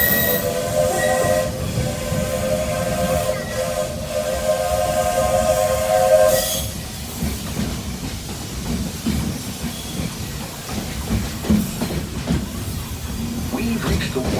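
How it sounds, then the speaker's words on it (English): Magic Kingdom Railroad steam train rolls on with a steady, loud rumble and hiss throughout, layered with sustained whistle-like tones during the first half before settling into continuous chugging running noise. "I'll stay safe and sound right here aboard my train"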